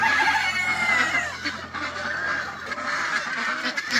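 A flock of geese honks and chatters nearby, overlapping nasal calls continuing steadily amid farmyard noise.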